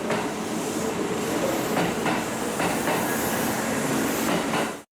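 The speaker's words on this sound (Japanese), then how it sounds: "いろんな列車が行き交い、退屈しません" Steady rumble of trains rolling past a platform at Osaka Namba Station, with rhythmic clickety-clack of wheels and rail noise filling the whole stretch, cutting off abruptly at the end.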